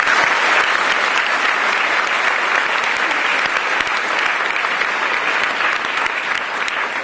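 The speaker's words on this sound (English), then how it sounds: "big round of applause, great stuff" A school leavers' assembly audience applauds after the day's performances: steady, dense clapping from a large crowd, loud and even throughout with no pauses.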